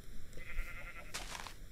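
A single Minecraft sheep bleats in the video game, a short wavering cry followed by a brief second bleat, heard alone.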